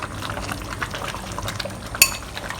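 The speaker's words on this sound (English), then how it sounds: "Now we'll stir in the oil that we used to fry the shallots with." Shallot frying oil is stirred into a pot of Taiwanese oyster mee sua, with soft wet swishing and scraping, light sizzle in the background and one sharp utensil clink against the pot near the end.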